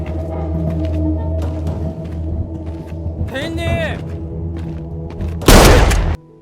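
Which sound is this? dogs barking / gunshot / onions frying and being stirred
gunshot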